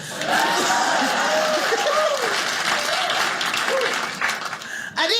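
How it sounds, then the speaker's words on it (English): Loud applause from a comedy show audience, mixed with cheering voices and some laughter, holding steady before cutting off abruptly near the end. "Yeah, clap."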